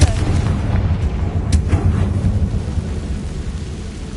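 A Confringo blasting spell goes off in Hogwarts Legacy, a dense rumbling burst with a sharp crack near the middle, rolling on as low booming noise through the whole stretch.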